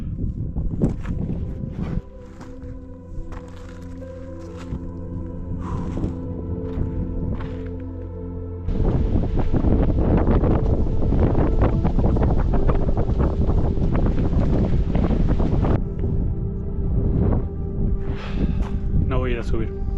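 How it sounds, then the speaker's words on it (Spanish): Strong gusting wind buffets the microphone on a loose, crumbling rocky mountain peak, a roaring broadband rush that swells louder midway and stays heavy, with a person's voice present among the gusts. "Se levantó viento fuerte."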